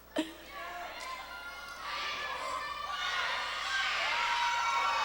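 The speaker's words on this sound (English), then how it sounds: "Listen to the crowd, both sides." A high school volleyball gym crowd swells into sustained shouting and cheering from both sets of fans, young voices whooping and calling, building louder after a sharp opening bang.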